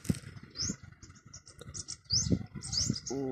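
Birds chirp in quick, high bursts, with soft pigeon-like cooing underneath. The calls come close and intermittent over a quiet outdoor background.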